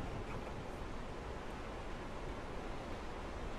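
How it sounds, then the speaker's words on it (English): Steady roaring rush of a waterfall in the video game Rise of the Tomb Raider, a continuous broadband wash of falling water that holds level throughout with no voices. "Wow, a waterfall."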